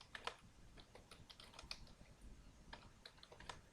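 Computer keyboard typing code sounds as a quick, irregular run of soft key clicks, steady and close throughout with no talk.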